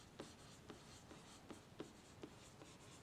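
Chalk or marker writing on a board in a math class, about six short scratchy strokes in uneven rhythm, faint and close, with no talking.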